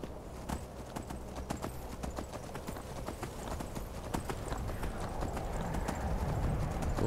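Horse hooves clip-clop at a steady gallop in the Skyrim video game, a rapid rhythmic beat of close, fairly loud hoofbeats that grows a little louder toward the end, with no talk.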